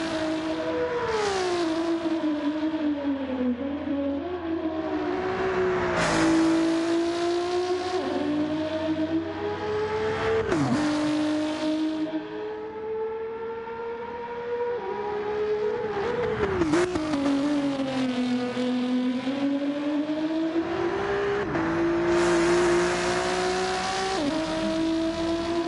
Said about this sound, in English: That car sounds really good.